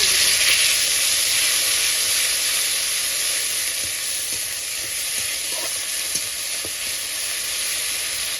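Whole cumin seeds, a bay leaf and dried chili sizzle steadily in hot oil, a loud, continuous frying hiss with a few faint crackles and no talking.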